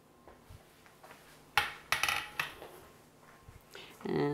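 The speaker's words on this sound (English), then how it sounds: "Okay, I've drained them. Now I'm going to put them into my bowl." Drained potatoes tumble into a bowl in a few sharp knocks and clatters, with a scattered cluster of light thuds and a final scrape near the end, close and fairly quiet.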